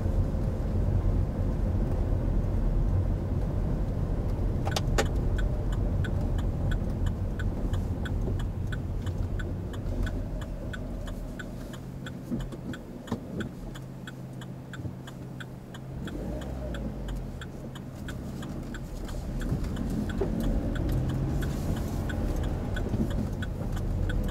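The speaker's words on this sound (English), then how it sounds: "We're getting used to the idea of just working the engine a bit more." A car engine hums steadily during a driving lesson, a low continuous drone that dips briefly as the car slows and then builds again, with faint clicks.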